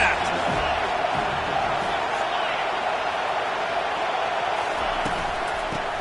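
A stadium crowd at a football game roars in a steady wash of cheering and noise, with a commentator talking over it.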